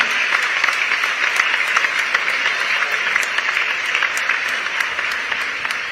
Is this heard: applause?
yes